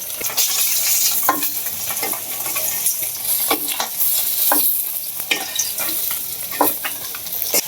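Fish fries in a pan with loud, continuous sizzling close up, while a utensil stirs and scrapes through it in repeated short strokes.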